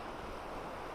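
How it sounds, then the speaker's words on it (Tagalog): River water rushing beside a campsite in the mountains, a steady broadband wash close to the microphone with no other sounds. "Tapos yung naririnig mo ay agos ng tubig."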